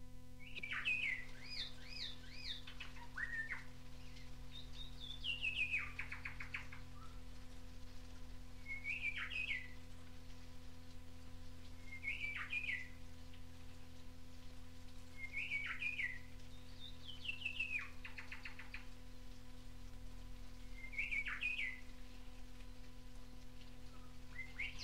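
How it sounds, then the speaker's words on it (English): Rufous shrike-thrush calling in North Queensland tropical rainforest, a series of clear whistled phrases repeated every few seconds at moderate distance over a faint steady background hum. "Rufous-shrike thrush."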